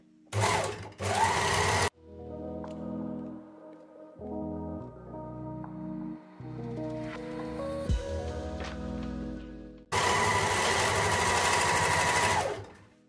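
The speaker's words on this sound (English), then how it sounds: "it's just hemming the facing basically. So I'm going to do that quickly because it's straightforward" A sewing machine hems the facing of a slip dress in two loud, steady bursts of stitching, separated by a quieter stretch of music-like tones, with no voice.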